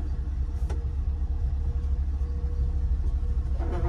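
A 1967 Ford F100 pickup with a Coyote V8 engine rolls into a garage, its low engine rumble steady and close throughout with no talking.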